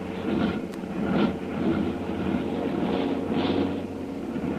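The engines of a heavily loaded plane, motors still cold, drone steadily and loudly with a rough, uneven texture and periodic surges, one motor starting to miss.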